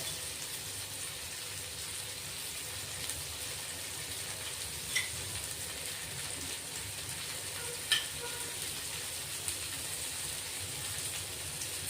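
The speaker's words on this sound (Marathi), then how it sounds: "शेकतोय आपण हे पहा अगदी थोडा तेलाचा वापर करतोय" Breakfast pan-roasting in a little oil on a gas stove, a steady soft sizzle and crackle running throughout, fairly quiet, with a few faint clicks of utensils.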